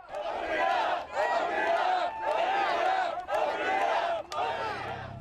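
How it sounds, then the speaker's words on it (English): Large crowd of protesters outside a Kohl's store in Salisbury, shouting and chanting in loud, sustained waves with brief dips between bursts, close and continuous throughout. "this was the scene outside the Kohl's in Salisbury. Crowds of people"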